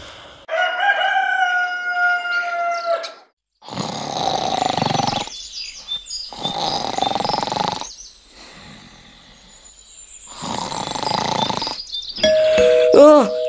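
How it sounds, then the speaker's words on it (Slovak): A doorbell chimes in the bedroom of a hotel room amid a busy cartoon soundtrack, its ringing tones sounding loud and repeated between bursts of noise and a rooster-like crow. "Čo? Kto zvoní?"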